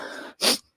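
A single short sneeze bursts out close by after a faint breathy intake, sharp and brief, then quiet.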